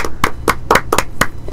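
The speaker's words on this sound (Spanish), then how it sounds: "a quien quiero darle un inmenso aplauso" Sharp, distinct hand claps at a steady rhythm, about six close claps over a second and a half, in an interview honoring a cumbia musician.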